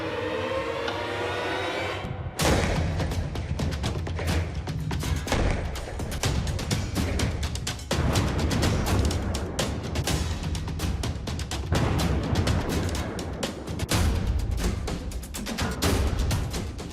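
A car bomb detonates in a test car fitted with mannequins: a sudden loud blast at about two seconds, then a long, dense roar and crackle of smoke and falling debris that keeps on without a break.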